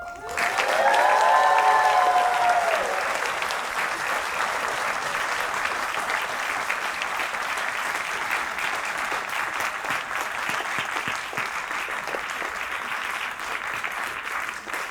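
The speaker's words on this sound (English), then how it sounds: "so let's applaud again" A graduation commencement audience for the class of 2025 breaks into loud, sustained applause that swells at the start and carries on evenly throughout, a dense wash of clapping from a large crowd.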